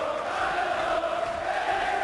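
A darts crowd at the PDC World Matchplay, Vincent van der Voort fans, sings and roars in a steady massed din that fills the arena without a break.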